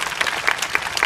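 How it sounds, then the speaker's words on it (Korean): An audience at a memorial event gives a short round of applause, dense overlapping clapping at moderate volume with no voices heard over it. "박수 부탁드리겠습니다."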